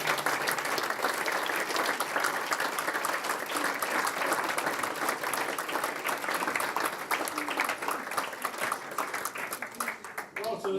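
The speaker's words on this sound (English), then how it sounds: "I think we owe Kieran a massive round of applause" A crowd at a Carmarthen schools association event gives a long, lively round of applause with crisp individual claps, continuing steadily throughout.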